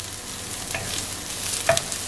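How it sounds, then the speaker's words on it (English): Shredded cabbage sizzles in a hot pan while it is stir-fried for egg chow mein, with a steady hiss and a few scraping stir strokes. It sounds close and there is no talk. "Now I am going to add cabbage. Again, I am going to stir it for about 15 seconds."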